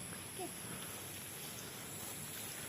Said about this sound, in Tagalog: kaya ulan